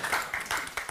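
A small audience at a panel welcome gives a short burst of scattered clapping, a few uneven claps heard at moderate distance within under a second.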